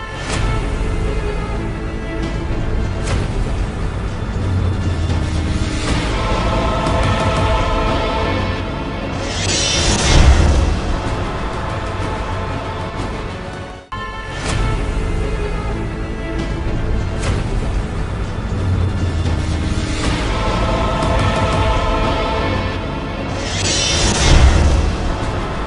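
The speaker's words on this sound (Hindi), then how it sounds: "ट्रैफिक में कान पड़ी आवाज़ सुनाई नहीं दे रही है" Loud street traffic in Karachi makes a dense, continuous roar of engines and road noise, with occasional louder surges, filling the whole stretch without a break.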